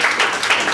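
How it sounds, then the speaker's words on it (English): A brief burst of audience applause at a coaching event, steady dense clapping from a room full of people, heard alone for under a second. "I think we give Fred a round of applause"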